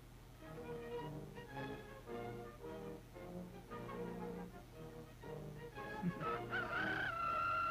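Rooster crowing in a cartoon, a faint drawn-out crow rising at the end over a busy background of music-like tones.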